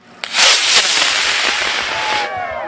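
A small rocket launches with a sudden pop and a loud rushing hiss that roars on steadily for about two seconds before fading into a whistling tail.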